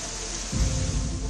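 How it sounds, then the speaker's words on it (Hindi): Heavy rain pours down steadily as a dense, loud hiss, with a deeper rumbling swell joining halfway through, during a morning downpour in Delhi. "बारिश आई और बादल जमकर बरसे"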